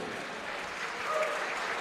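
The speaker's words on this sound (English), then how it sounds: "Gentlemen, how about a round of applause for both of these fighters?" Distant, washed-out crowd applause at a boxing fight night, a soft continuous roar of clapping that swells slightly toward the end.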